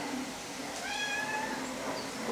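A house cat lets out a drawn-out, fairly faint meow over steady background noise.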